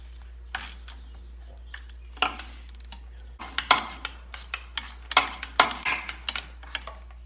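A wrench working on a bolt on a Massey Ferguson 231 tractor engine, sparse metallic clicks at first, then a quick run of ratcheting clacks and clanks close by under a low steady hum.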